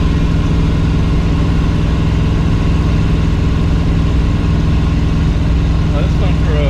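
Failing, locking-up engine of a 1968 Mercury Cougar running on the road, a loud continuous low drone with some whine near the end.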